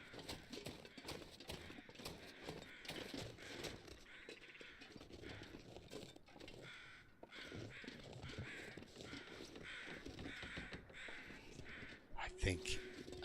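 Crows caw repeatedly in the survival game The Long Dark, harsh calls recurring over a busy background of game ambience and footstep-like sounds, with a person talking throughout.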